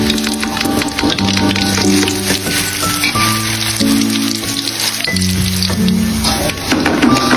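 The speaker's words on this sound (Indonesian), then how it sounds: "Lanjut mau aku goreng." Flour-coated grasshoppers frying in hot oil give a steady, dense crackle and sizzle, loud and close, while sustained background music plays throughout.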